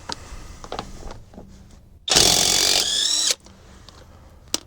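An Alloyman 20V cordless 1/2-inch impact wrench hammers at lug nuts torqued to about 160 foot-pounds: one loud, dense burst of rapid impacts lasting just over a second, then quiet with faint background knocks.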